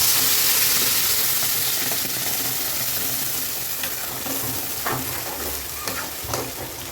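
Spices such as cumin, cloves and cinnamon fry and get stirred in hot oil in a kadai, a loud steady sizzle and hiss that fades slightly, with occasional scraping clicks of the spoon.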